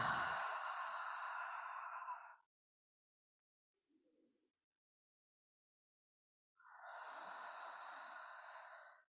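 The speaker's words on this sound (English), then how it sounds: "we want to just take some nice big slow breaths. So take some nice big breaths in." Slow, deep breathing during a hypopressive exercise: a long, close airy breath, a brief faint sound in a quiet gap, then another long breath, with no talking.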